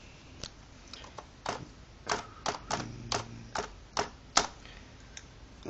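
Keys clacking on a small robot's on-board keyboard while a new NS-BASIC program is typed, about a dozen sharp separate taps in an uneven rhythm, close and fairly quiet.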